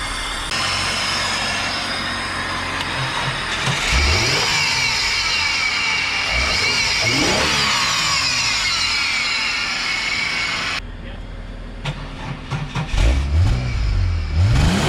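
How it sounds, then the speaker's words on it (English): A V6 Holden Commodore VX engine in a wrecking yard is revved several times, each surge of engine noise rising and falling close by, with a steady mechanical drone between the revs. "Give it another good rev."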